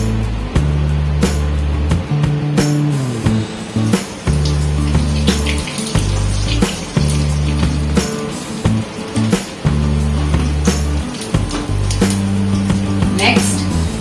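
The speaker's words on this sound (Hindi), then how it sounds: "हम इसमें पहले घी डालेंगे और थोड़ा सा जीरा" Ghee and cumin seeds sizzle in hot oil in a pan while cooking roasted baingan bharta, giving a steady, loud hiss over a low, droning hum that runs throughout.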